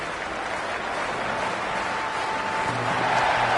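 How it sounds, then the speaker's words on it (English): Dense, steady roar of a cricket stadium crowd in Lahore before a ball is bowled in the final of an India vs Pakistan T20 series, a continuous wall of cheering and noise with no break. "this crowd is already making it hard for me to be heard"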